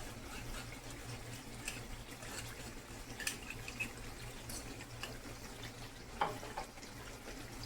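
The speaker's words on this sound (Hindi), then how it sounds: "इनको अच्छी तरह से मिक्स करते हैं।" Ketchup and soy sauce being stirred into butter garlic chicken in a pan, a faint steady sizzle with soft scraping and a couple of light utensil knocks.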